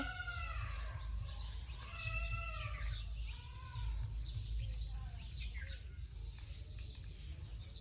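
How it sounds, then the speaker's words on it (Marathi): Several sparrows chirp in quick bursts of bright, sweeping notes against a steady low rumble of background noise. "सगळ्या चिमण्यांचा किलबिलाट वगैरे खूप छान"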